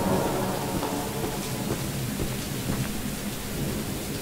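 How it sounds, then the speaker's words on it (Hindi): Steady rain and rumbling thunder fill a stormy scene in the horror video game Choo Choo Charles, a dense, continuous downpour with low rolling rumbles underneath and no talking. "अब बारिश भी होना शुरू हो गई है"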